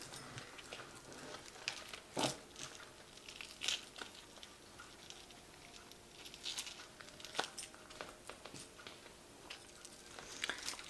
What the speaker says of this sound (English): So I have shuffled these cards.